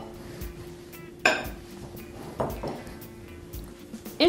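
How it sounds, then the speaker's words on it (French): Chopped chocolate and dried apricot pieces tipped into a bowl of gluten-free cookie dough make a few distinct clinks and knocks against the bowl, spaced a second or so apart, over a quiet kitchen background. "Maintenant, je vais ajouter le chocolat coupé en morceaux et mes abricots secs que j'ai également détaillés en morceaux."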